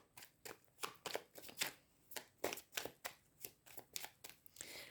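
Tarot cards shuffled by hand close up, a quiet run of rapid rhythmic riffling bursts one after another with no talk.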